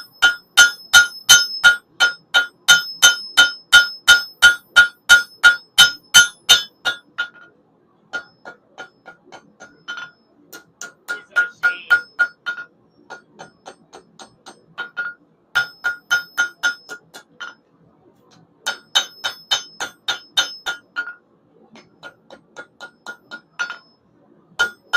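A blacksmith hammers the bevel of a railspike knife on an anvil, striking in quick steady bursts of ringing metallic blows, loud and close, with short pauses between runs of strikes.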